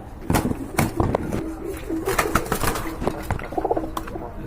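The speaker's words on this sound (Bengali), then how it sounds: "এটা কিন্তু খাকি কবুতর" Khaki pigeons in a loft with eggs being incubated give soft, low repeated coos throughout, layered with rustling, fluttering and faint background sounds at close range.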